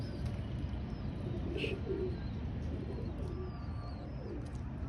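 A pigeon cooing softly once or twice against a steady low background rumble, faint and a little distant.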